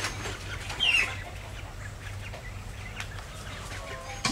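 Young chickens, about five weeks old, make soft clucks and chirps around a chicken house, with one brief higher call standing out early among low steady background hum and rustling.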